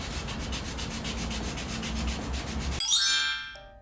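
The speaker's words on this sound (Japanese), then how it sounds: "早速板の端っこを危なくならないように丸くして、このヤスリで磨いていきます。" A rounded wooden board edge is filed smooth for a car-camping build, a steady rhythmic scraping rasp repeated in even strokes, ending in a ringing metallic chime as the work stops.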